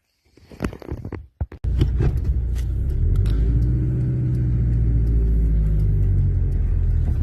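A short burst of handling rustle gives way to the steady low engine and road rumble of a car driving toward a village in the Carpathians, heard from inside, continuous and close, with no talking.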